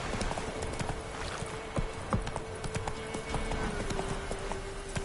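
Roach, a horse in The Witcher III: Wild Hunt, trots steadily with a continuous clip-clop of hooves, set against a constant in-game ambient hum and faint music.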